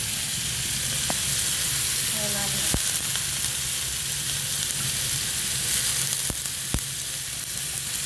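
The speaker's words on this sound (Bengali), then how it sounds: "ঝুরি আলু ভাজি হচ্ছে আজকে" Shredded potatoes fry in a pan, making a continuous dense hiss and crackle up close, with occasional sharp clicks of a utensil against the pan.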